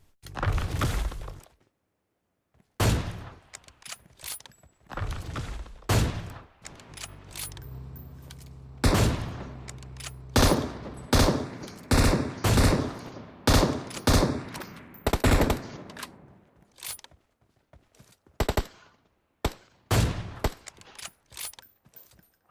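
Gunfire in the mobile battle-royale game PUBG Mobile comes in loud, sharp bursts and rapid volleys, some single shots and some long strings, spread across the stretch with short silent gaps.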